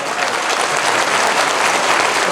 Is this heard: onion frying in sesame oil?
no